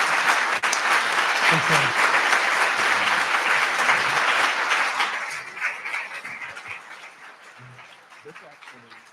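An audience at an artists-and-critics talk bursts into dense, loud applause that holds for about five seconds and then thins to scattered claps and murmuring, with a brief spoken word early on.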